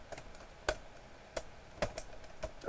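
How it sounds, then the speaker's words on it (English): Sparse, crisp clicks of a computer keyboard as code is typed, about seven distinct keystrokes spread unevenly across a few seconds, close and clear against a quiet background, with no voices. "So let's type in grid."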